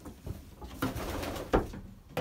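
Young pigeons coo softly in a loft, with several low, rounded coos and some shuffling close by, and no talking.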